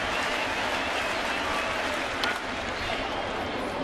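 A baseball stadium crowd at an Angels game in 2012 keeps up a sustained roar of cheering and applause, broad and steady throughout, with a brief swell partway through.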